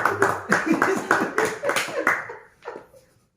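A few people clap their hands in short, uneven bursts close by, mixed with talking and laughter, the claps thinning out toward the end.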